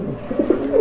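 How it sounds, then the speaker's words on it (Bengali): A pair of blue high flyer racer pigeons gives a short, close, soft throaty coo lasting under a second. "এক জোড়া একদম নীল পরের হাই ফ্লায়ার কবুতর"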